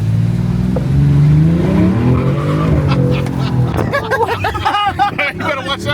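A 2026 Dodge Charger Sixpack engine rises in pitch as the car accelerates for about three seconds, heard loud from inside the cabin. Excited voices, laughter and chatter then take over while the engine drops into the background.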